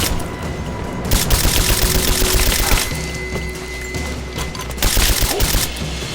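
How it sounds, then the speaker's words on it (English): Loud, dense gunfire from the video game Rise of the Tomb Raider rattles in rapid bursts, with rounds overlapping almost continuously and brief shifts in intensity. "Open fire! I'm under fire!"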